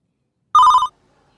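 A telephone rings once in a nursing setting, a short bright electronic trill lasting about a third of a second, loud and close, with silence before and after.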